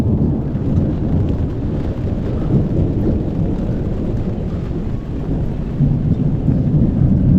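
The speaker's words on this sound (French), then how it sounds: "Il y a de l'orage, il pleut." Steady, heavy rain pours without a break while low thunder rumbles beneath it, on a boat at anchor in the Bay of Villefranche, filling the whole stretch at an even level.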